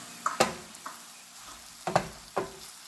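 Japanese eggplant sautéing in oil in a pan, a soft background sizzle broken by several sharp stirring scrapes and clatters at uneven intervals, close and fairly quiet.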